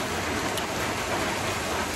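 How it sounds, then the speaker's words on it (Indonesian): Steady, dense rain falls outside as a constant broadband hiss with fine pattering close by, unchanging across the two seconds, with no voices. "Maaf agak berisik sama suara hujannya guys, soalnya emang lagi turun hujan."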